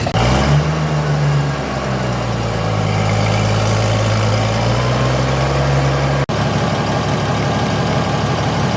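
An old engine idles roughly with too much choke, a loud, steady low rumble with a slight wavering pitch that runs throughout and cuts out briefly near the end.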